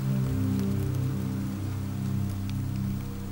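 A rain shower falling steadily in a woodland habitat, a dense, even patter over a low continuous rumble, with no voices.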